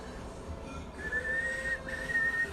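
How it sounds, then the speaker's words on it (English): A person whistles a short, faint tune in a kitchen while cooking, a couple of sustained notes over low background noise. "I'm whistling."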